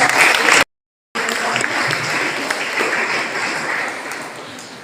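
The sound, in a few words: audience applause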